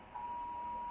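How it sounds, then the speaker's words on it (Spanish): An evening curfew alarm telling people to go home sounds as one steady, unbroken electronic tone, faint but continuous through the whole second, with no talk over it. "Está sonando la alarma de recójanse para sus casas"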